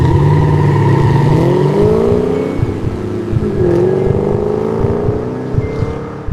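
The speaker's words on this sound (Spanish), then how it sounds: "El motor del descapotable rugió al límite de sus capacidades, rompiendo el silencio de la noche" A convertible's engine roars at full throttle on a night road, its pitch sweeping upward as it revs hard, loud and close with wind rushing over the microphone.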